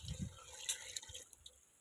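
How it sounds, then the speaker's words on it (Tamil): Water splashes and trickles into a pot for a large batch of mutton biryani rice, a faint, steady pouring with soft drips and gurgles. "தண்ணி ஆட் பண்ணிக்கலாம்"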